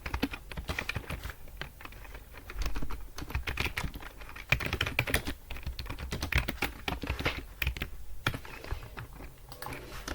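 Rapid typing on a computer keyboard while writing HTML and CSS code, a dense close clatter of key presses in uneven bursts that carries on throughout without speech.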